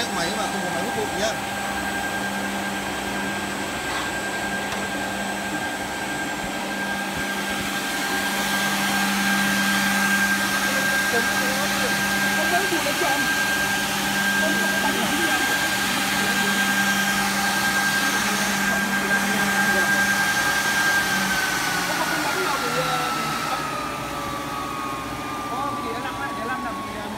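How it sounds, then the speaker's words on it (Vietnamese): An automatic edge banding machine runs without a dust collector attached, giving a steady, loud mechanical whir and hum with a high whine that drops in pitch near the end, while people talk faintly nearby. "Đây là test máy mà không có máy hút bụi nhá."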